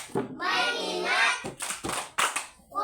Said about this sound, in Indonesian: Ulangi, tepuk fokus